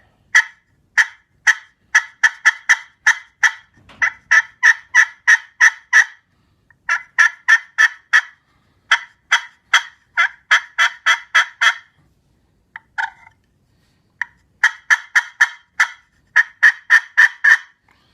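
A friction turkey call mimics a turkey, sounding repeated series of raspy yelps in quick rhythmic bursts with short pauses between runs, clear and close.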